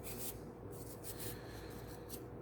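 Steady rubbing and rasping as rust is scrubbed off a Kawasaki Vulcan drive shaft, a continuous close abrasive scrape with brief brighter strokes and no talking.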